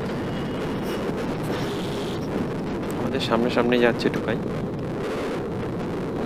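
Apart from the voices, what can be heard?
cold wind blowing on a foggy morning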